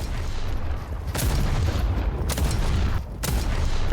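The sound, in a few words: gunfire in the video game Deadlock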